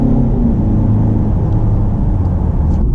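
A car accelerating hard in a drag race, heard from inside as a loud, sustained low engine drone and rumble with rising harmonics, steady and close for the whole stretch.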